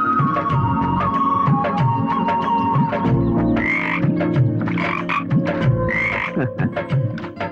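A frog croaks in a loud, rhythmic chorus, the calls repeating close and insistent over a steady background hum.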